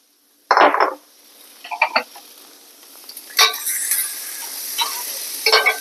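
Vegetables stir-fry in a pan with a little oil, heard as intermittent crackling bursts and stirring scrapes over a soft, continuous sizzle close by.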